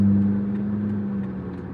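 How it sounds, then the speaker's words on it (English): Inside a car driving along Colfax toward Aurora, Colorado: a low, steady engine and road hum, brief and moderately loud. "Yeah, I am in a car."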